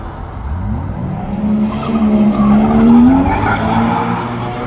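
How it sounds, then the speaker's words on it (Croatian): At a car meet in Germany, a drifting car's tires squeal loudly in a long, wavering high whine over revving engine noise, swelling toward the middle and easing off. "Sapali gume"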